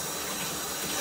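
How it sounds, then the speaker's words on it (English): Water pours steadily from a tap into a filling bathtub, a continuous, even hiss with no pauses or other sounds. "you can wait until the water fills up"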